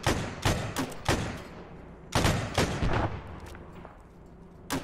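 Gunfire in a first-person shooter game: repeated loud, sharp shots and heavy booms arrive in uneven bursts, some close and punchy, with rumbling decay between them and no talking.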